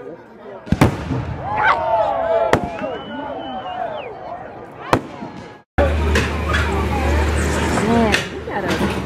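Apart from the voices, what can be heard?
fireworks display at a minor league baseball game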